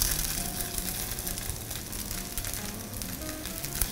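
Japanese chicken meatballs frying in a pan give off a continuous, even crackling sizzle at close range, with no voices.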